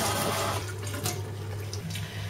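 Cooked rice for rice pudding rinsed under a cold running kitchen tap, a steady close rush of water splashing into a sink throughout, with no talking.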